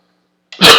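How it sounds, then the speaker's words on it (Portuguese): A single sharp cough bursts out close and loud after silence, a short throat-clearing hack with a noisy burst that fades quickly, breaking off a radiology lecture on cardiac MRI and CT. "Até eu tô tossindo."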